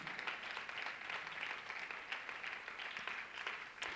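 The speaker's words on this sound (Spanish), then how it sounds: "Dale aplauso al Señor" A church congregation applauds during a Spanish-language sermon, a steady wash of many hands clapping together at moderate volume, sustained without pause and with no talk over it.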